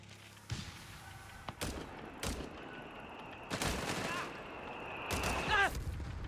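Gunfire from the Company of Heroes 3 strategy game at a live prize-fight event, with several sharp bursts and a sustained volley, some booming thuds, over steady game background noise.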